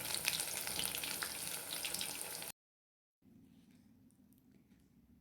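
Finely chopped onion fritters (piyaju) deep fry until crispy, giving a loud, dense bubbling sizzle that cuts out abruptly, then returns as a quieter, steadier frying hiss.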